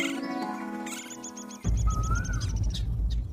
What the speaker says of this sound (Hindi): ऊपर उस पेड़ पर कितनी सुंदर चिड़ियाएं बैठी हैं।